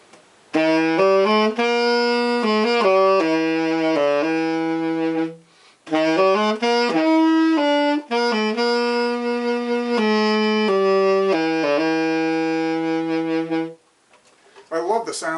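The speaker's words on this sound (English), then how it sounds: "I love the sound of this sax." A C melody saxophone plays a smooth, sustained melodic line of clear held notes in two phrases separated by a short breath. It sounds close and full, with no talking over it.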